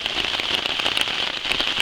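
Heavy rain falls outdoors at night, a dense, steady hiss with scattered louder patters of drops.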